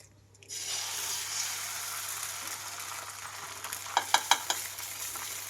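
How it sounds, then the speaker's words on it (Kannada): An egg sizzles and fries on a hot tawa greased with oil, a steady bright crackle starting abruptly and continuing, with a few sharp spattering pops near the end. "ನೋಡಿ ತವಾ ಬಿಸಿ ಆಗಿದೆ ಒಂದು ಮೊಟ್ಟೆ ಹೊಡಿತಾ ಇದ್ದೀನಿ"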